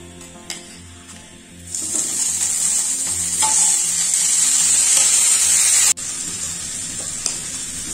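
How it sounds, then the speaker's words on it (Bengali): Grated bottle gourd tipped into a frying pan of hot ghee, setting off a loud, steady hissing sizzle that swells and holds close, broken by a brief clatter near the end. "এখন আমি গ্রেট করা যে লাউগুলোকে রেখেছিলাম আমি সেগুলো দিয়ে দিচ্ছি।"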